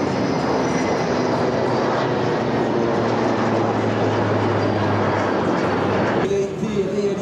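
A Morane-Saulnier Paris jet and a Breguet Alizé propeller plane flying past escorted by two Rafale M jets at the Hyères naval air base centenary, a loud continuous engine roar filling the whole stretch.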